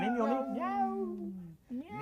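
A cartoon cat meows on a roof in a drawn-out, tonal cry followed by a brief second call, sounding like a voice performing the meow.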